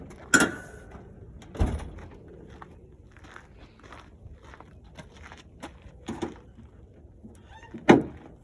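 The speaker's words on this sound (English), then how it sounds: "We can close the hood and move on." The hood of a school bus is closed during a pre-trip inspection. A few sharp, close clunks and thuds stand out, with faint rattles and shuffling in the quiet between them.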